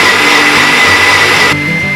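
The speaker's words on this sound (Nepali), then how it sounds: "ग्राइन्डरमा हालिसकेपछि यसलाई मजाले ग्राइन्ड गर्ने है त." An electric grinder whirring at a steady high pitch as it grinds fried ingredients into paste for momo soup, then dropping in tone near the end as the load shifts.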